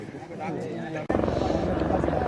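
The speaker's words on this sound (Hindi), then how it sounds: "तो यहाँ पर हेलीकॉप्टर की सुविधा भी है, तो यहाँ से अभी चंदनवाड़ी ले जाएगा हेलीकॉप्टर पे।" A helicopter on the Amarnath Yatra route in the mountains, flying toward Chandanwari, gives a continuous whirring rotor thrum that grows louder midway, heard under a person talking.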